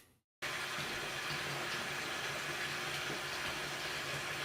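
Water runs from a faucet and down a drain, a steady hissing, splashing stream that starts abruptly after a brief pause and continues close and unbroken with no talk.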